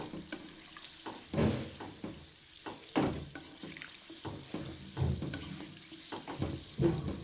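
Gulab jamun fry in hot oil while a spoon stirs them, giving soft bubbling and irregular scraping and splashing bursts at close range.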